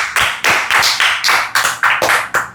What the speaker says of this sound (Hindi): तालियां बजाइए सब लोग।